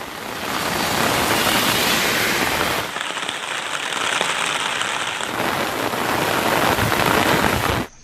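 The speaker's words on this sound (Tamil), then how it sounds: "சீர்காழி மற்றும் சிதம்பரம் சுற்று வட்டாரத்திலும் இடியுடன் கூடிய கனமழை பெய்தது" Heavy rain with thunder falls around Sirkazhi and Chidambaram in Tamil Nadu. The downpour is a dense, steady roar of drops striking surfaces close by, continuing unbroken throughout.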